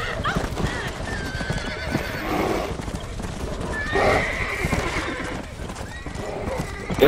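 A horse gallops with rapid hooves and breaks into loud whinnies, the sounds running on steadily as a few voices call faintly underneath.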